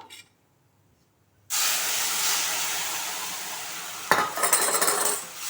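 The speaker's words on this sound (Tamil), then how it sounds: "இப்போ நம்ம எடுத்து வச்ச பீட்ரூட்டு ஜூஸை அதில் சேர்த்துருவோம்" Beetroot juice hits roasted semolina in a hot pan with a sudden loud hiss that holds steady, then scraping and stirring clatter near the end, close and alone.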